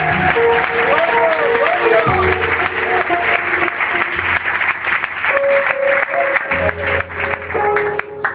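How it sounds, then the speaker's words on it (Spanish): A church congregation claps together, steady rhythmic clapping mixed with musical tones and singing or voices throughout, loud and close. "¡Aplaudan a Dios!"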